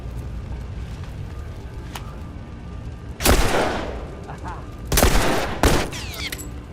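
Gunfire in The Last of Us: two loud, sharp gunshot blasts a couple of seconds apart, each with a booming echoing tail, over a low background hum with faint sounds in between.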